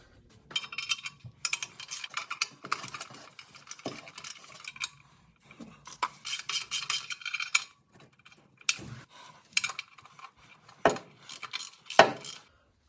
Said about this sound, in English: so I've tightened them all down, crisscross pattern, snugging them down